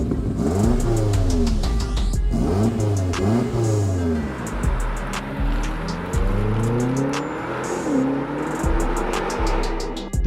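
A BMW X6M performance SUV accelerates hard through repeated gear changes, the engine note climbing and dropping in sweeping revs with a brief tire squeal, loud and close throughout with no talking.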